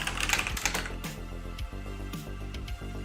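Rapid clicking of keys on a computer keyboard, steady and close, typing a script for looting chests in an Ultima Online game, with a constant hum underneath and no voices.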